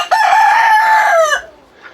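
A rooster in a backyard flock of chickens gives one loud, close crow lasting just over a second, followed by quiet.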